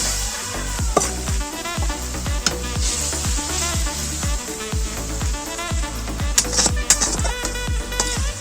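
A tamarind-soured fish broth for a summer fish tok at a steady rolling boil in a pan, dense bubbling and popping with sharper spits toward the end, close and continuous, no voices.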